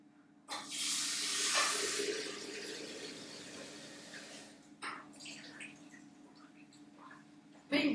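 Water poured into a kettle makes a bright, splashing rush that starts suddenly and tapers off after about four seconds. Quieter clinks and a voice follow.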